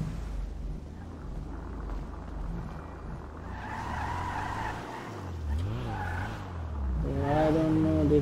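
A Nissan Skyline GT-R R34 drifts in GTA 5 with a droning engine under wavering tire squeals and skids that rise and fall, loud and continuous throughout.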